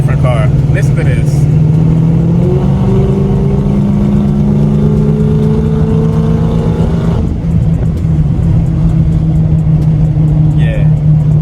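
A 2003 Infiniti M45 V8 fitted with Nissan Titan headers revs loudly and up close, its pitch climbing and then dropping back to a rumbling idle, with a voice talking over it.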